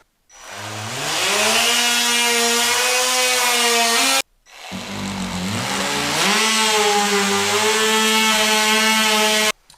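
A power saw cuts through wooden trim in two long passes, a loud tonal whine with a strong harmonic buzz that rises and falls slightly, separated by a short pause near the middle.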